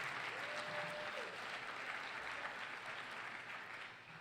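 Audience applause during a school state-of-the-school address, a faint, distant, steady patter of many hands that holds evenly and fades slightly at the end.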